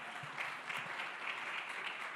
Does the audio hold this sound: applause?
yes